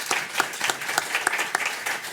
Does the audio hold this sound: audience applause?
yes